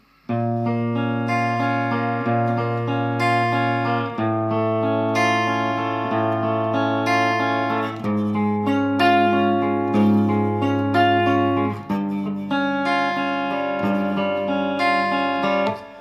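A guitar picks out a flowing arpeggio pattern over sustained notes, steady and full, repeating through the verse without any talking.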